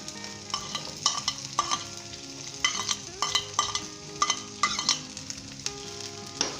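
Onion fries with cabbage and potato for an aloo band gobhi sabzi, a soft sizzle broken by repeated sharp stirring scrapes and clacks of a spatula against the pan, irregular and close, with no talking.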